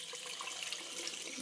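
Water runs steadily from a tap with a broad, even hiss throughout, close and fairly quiet, with no voices.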